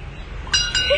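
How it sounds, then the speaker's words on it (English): A temple bell rung at the Vankhandi Mahadev shrine near Old Delhi Railway Station, heard as two bright metallic strikes in quick succession, the second ringing on briefly over a low background hum. "ring the bell"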